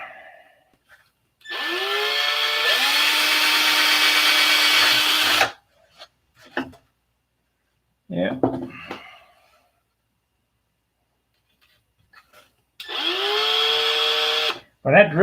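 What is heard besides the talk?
power drill drilling holes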